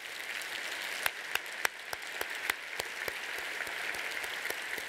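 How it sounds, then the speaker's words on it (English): A luncheon audience at a professional awards event applauds, sustained even clapping heard from a slight distance with a few sharper individual claps standing out. "Can we give him a round of applause for that?"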